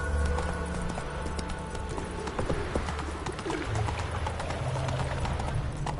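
A horse in a PS4 video game clip-clops along in a rhythmic steady stride, mixed with cooing bird calls and ambient game sound, no talking.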